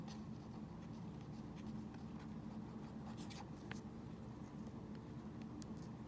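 Pen writing on paper, faint scratchy strokes in a quiet room, with brief sharper ticks of the pen against the page over about six seconds.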